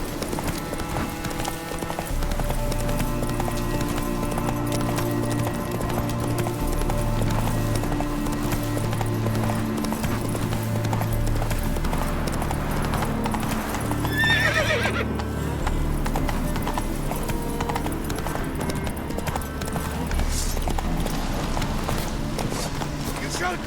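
The horse Roach gallops in The Witcher 3 video game, with steady, fast clip-clop hoofbeats up close, a whinny partway through, and game music and combat noise underneath.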